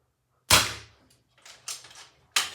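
An Avenge-X PCP air rifle fires two sharp, close target shots about two seconds apart, with faint knocks and clatter between them.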